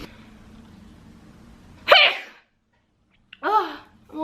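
A woman sneezes once loudly and close, a sharp explosive burst, then a short pause before a brief vocal sound follows, over a faint low background hum.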